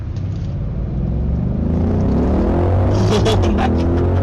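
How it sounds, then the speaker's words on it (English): A 2021 Audi SQ8 accelerates hard from a stop, its engine building into a loud, rising rumble heard from inside the cabin, with an excited voice breaking in near the end. "I hope you guys heard this engine sound"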